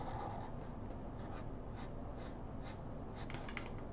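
A pen draws the pit road lines of the Daytona road course onto paper, giving a soft, steady scratching over a constant background hiss, with faint repeated strokes.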